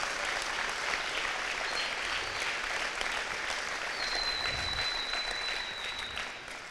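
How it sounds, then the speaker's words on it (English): An audience at a school fall activities awards night claps for a regional champion, a dense, sustained round of applause that carries evenly before fading slightly at the end. "Let's give him a round of applause on that."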